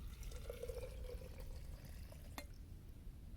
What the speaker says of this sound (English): attempt to pour this hot water in here